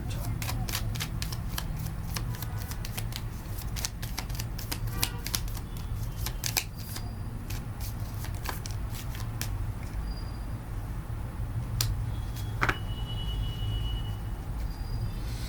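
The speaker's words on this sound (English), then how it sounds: "Let me just pull another card." Tarot cards are shuffled and pulled during a pick-a-card reading, giving quick papery riffles and flicks with sharp card snaps scattered throughout, close to the mic over a steady background hum.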